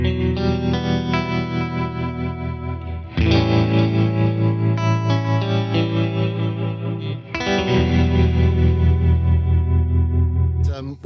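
Electric guitar through a Tone King Imperial preamp pedal with tremolo and reverb on, loud sustained chords pulsing in a steady rhythmic throb, changing chord twice over the passage.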